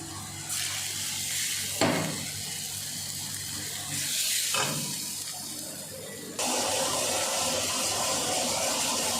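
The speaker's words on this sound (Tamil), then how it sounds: "தண்ணி ஊற்றிக்கோங்க." Water splashes into a hot pan of frying quail pepper fry in several bursts, hissing and sizzling loudly, with steady frying noise continuing between and after the pours.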